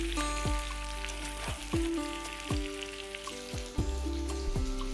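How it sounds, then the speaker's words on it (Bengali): Potatoes and pumpkin frying in oil with panch phoron in a wok (kadai), giving a steady close sizzle with recurring clinks and scrapes of a spatula against the pan. "এখানে কড়ায় তেল দিয়ে তাতে পাঁচ ফোটন দিয়ে আলু আর কুমড়োটা তুলে দিয়েছি"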